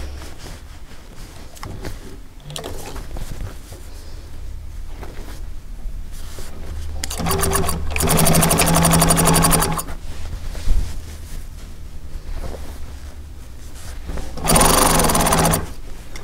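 Home sewing machine stitching upholstery fabric, running in two loud sustained bursts with a pause between, over steady low room noise.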